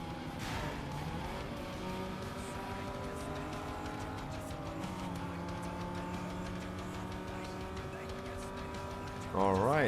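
A Ford Mustang race car in Need For Speed Most Wanted drives hard, its engine holding a sustained, loud drone with shifting pitch and a surge near the end, while a person talks over it.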